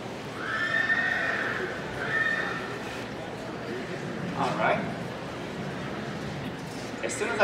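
A horse gives two loud, close whinnies early on, then some clopping hoof movement follows against steady outdoor background noise.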